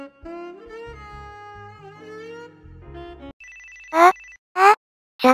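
A phone rings with an incoming call in a comedic Japanese dating game: a synthesized melodic ringtone plays, then three loud bursts of electronic ringing follow, each pausing briefly before the next.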